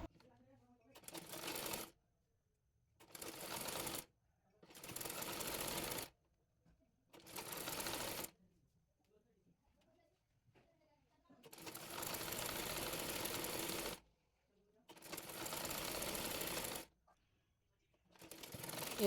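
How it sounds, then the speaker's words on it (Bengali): Domestic sewing machine stitching a cotton sleeve piece onto the body of a baby frock, running in six bursts of steady rapid whirring separated by short pauses, close and loud. "এরপর বডি পার্টের উপরে হাতার কাপড়টি রেখে সেলাই করে নেব।"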